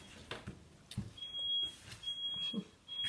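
A smoke alarm, set off by something burning, beeps in repeated long tones, shrill, steady and high-pitched, with muffled household noise and faint movement underneath.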